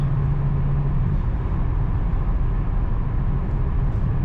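A 2007 Ford Mustang Shelby GT500 engine drones steadily while accelerating, from start to finish, a continuous low rumble with broadband road and wind noise and no voices.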